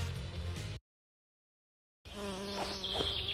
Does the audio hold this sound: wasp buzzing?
yes